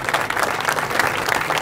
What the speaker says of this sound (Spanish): Para Silvana, un aplauso.